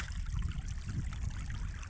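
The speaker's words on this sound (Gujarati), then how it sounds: "આપણા ગામમાં એટલું એટલું પાણી જાય" Water rushing steadily past a large dam on a river near a village, a continuous broadband flow with low rumble, fairly close and alone without talk.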